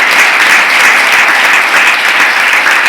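A church congregation applauding loudly, a thick, continuous roar of many hands clapping at once, steady from start to finish.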